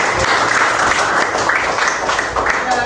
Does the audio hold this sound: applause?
yes